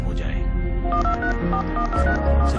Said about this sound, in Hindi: सिर्फ एक फोन घुमाने से